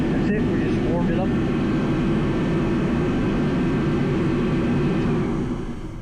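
A heat tool blows hot air to soften blow-off valve O-rings during a turbo kit install on an FRS, giving a loud, steady, close-up whooshing roar that holds for several seconds and eases slightly at the end.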